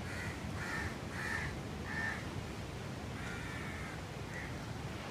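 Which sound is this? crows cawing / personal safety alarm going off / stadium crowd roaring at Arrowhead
crows cawing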